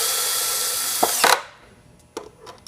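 A cordless drill drives screws into a pole assembly, whirring steadily and loudly for over a second with a couple of brief bursts before it stops, followed by a few faint clicks and handling knocks.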